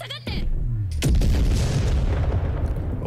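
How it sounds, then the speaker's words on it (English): A loud, booming explosion from an anime episode, with a sharp burst followed by a sustained roaring rumble, heard close and mixed with speech. "Okay, that's gonna explode."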